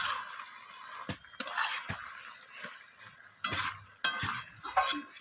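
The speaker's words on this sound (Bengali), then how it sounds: "তো আমি আবারও সমস্ত কিছু এইভাবে নাড়িয়ে চাড়িয়ে কষিয়ে নিচ্ছি" Cabbage curry with slit green chillies is stirred and fried in a pan: a sharp steady sizzle runs throughout, broken by several distinct scraping spoon strokes, close and fairly loud, with no talking.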